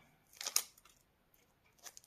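A few quick rustles and rips as tape is pulled from a package, close and soft, with quiet pauses between.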